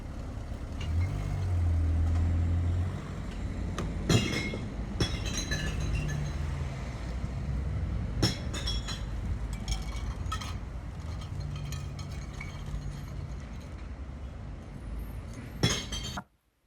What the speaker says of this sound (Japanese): こんな感じでこの穴に瓶を放り込んで割れる音を楽しめば OK って感じです。